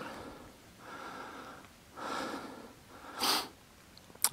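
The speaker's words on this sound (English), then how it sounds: "Sorry about the heavy breathing." Heavy, labored breathing after climbing a cliff while caving by the C&O Canal, several slow loud breaths and sniffs close to the mic, each rising and fading, ending with a brief clatter.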